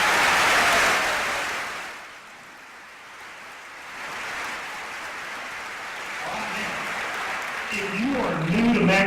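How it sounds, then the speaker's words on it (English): Audience applause for new teachers at a school district convocation, a broad wash of clapping that fades out after about two seconds, followed by quieter room noise and a voice near the end. "Let's give them another round of applause."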